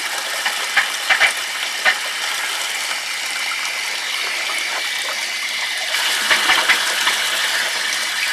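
Hose bibb being run after draining the line, gushing and trickling water steadily with brief sputtering bursts as trapped air escapes, two clusters of spits near the start and another surge later.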